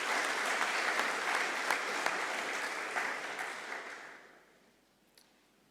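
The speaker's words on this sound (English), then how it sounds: "I think we should give them a clap." Graduation ceremony audience applauding steadily for about four seconds, a dense even wash of many hands in a hall, then fading out to near silence with a few scattered final claps.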